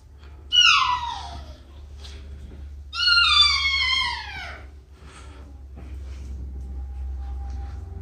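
Two long, drawn-out meows from a cat, the second louder and more insistent, heard close up indoors over a low background hum.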